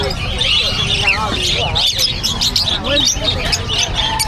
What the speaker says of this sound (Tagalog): Daming ibon.